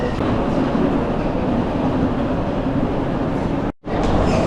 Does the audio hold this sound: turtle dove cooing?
no